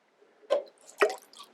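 Gooey liquid from a Gravity Goo lab-in-a-bag kit is poured quickly into a bag, giving two wet, squishy plops about half a second apart, then softer dripping. The sounds are close and fairly quiet, with no talking.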